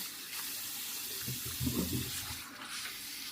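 Water runs steadily from a faucet at a salon shampoo sink while hair is rinsed in a back-wash. The flow is soft and continuous, with brief splashing swells near the middle. No voices are heard.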